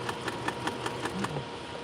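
A sewing machine running on denim gives a faint, quick, even ticking of the needle stroking, a mechanical hum under it, and a short pitch wobble near the end as it slows.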